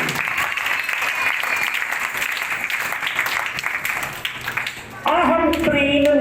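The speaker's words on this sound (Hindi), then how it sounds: "बेटों के लिए बेटियों के लिए जोरदार तालियां।" Church congregation clapping loudly for sons and daughters during a forgiveness sermon, a thick burst of applause that dips briefly before a voice and music-like tones break in near the end.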